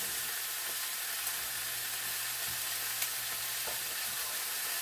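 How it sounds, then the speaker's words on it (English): Collard greens with onions frying in bacon grease, a steady close crackling sizzle with faint stirring scrapes and a low hum underneath, no voices. "Give the collards a good mix with all the onions, the bacon grease"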